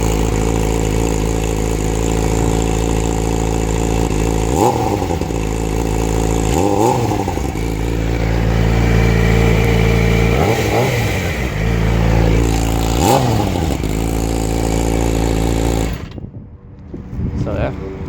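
A motorcycle engine idles loud and close with a steady throb, rising in four short revs spaced a few seconds apart, then cuts off abruptly near the end.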